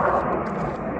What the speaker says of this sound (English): military jet there.